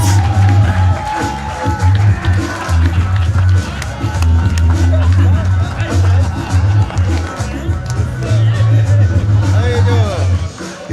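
A comedy club audience at a live gong-show contest cheers and applauds loudly and steadily as the next comic is welcomed, with crowd noise filling the room throughout and a strong low rumble underneath.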